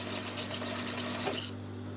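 A sewing machine runs steadily while stitching a trouser waist seam, a close, continuous mechanical whir with fine rapid ticking that drops away near the end.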